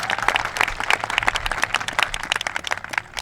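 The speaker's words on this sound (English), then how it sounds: "Big round of applause." Outdoor crowd clapping at a high school world language induction ceremony, a thinner and more open patter of individual claps, moderately loud and fairly brisk.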